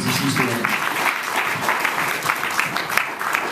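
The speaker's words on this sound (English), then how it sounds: "let's have a big round of applause for Sofia here about the exciting things that she's doing" An audience at a 1 Million Cups Denver startup presentation breaks into steady, dense applause for a presenter, many hands clapping continuously at moderate loudness for several seconds.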